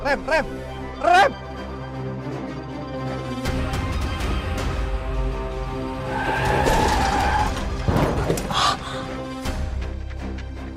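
In a TV drama scene, a car brakes hard and skids into a crash: a couple of brief raised voices, then a long, loud tire screech with harsh impact bursts before it settles.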